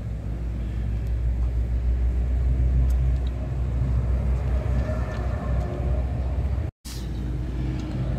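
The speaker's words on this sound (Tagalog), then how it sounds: "Ito RO6 ang kanyang engine." A Suzuki Wagon R's R06 engine runs steadily in a low, continuous rumble, close by and loud, with one brief dropout near the end.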